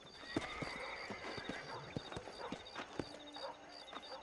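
Rhythmic horse hoofbeats clop along at a steady walking pace in Red Dead Redemption, with a faint whinny and a thin whistling tone in the background.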